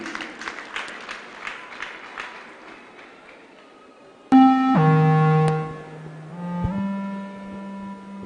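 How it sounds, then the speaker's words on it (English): A church congregation claps during a live holy communion service, a brisk run of hand claps that fades out, then sustained organ-like tones take over. "Clap hands for Jesus as she sits down."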